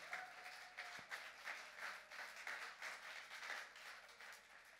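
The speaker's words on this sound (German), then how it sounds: "Nochmal großen Applaus für meine Gäste." Audience applause for guests at a panel discussion during a Basel football event, a steady, fairly faint patter of many hands clapping throughout.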